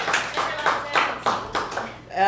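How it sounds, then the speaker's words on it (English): An audience at a live performance reading in a bar venue gives a short round of applause, heard as a brisk run of broadband hand claps at moderate loudness, with no talk over it. "Let's have a bit of a round of applause for the bar."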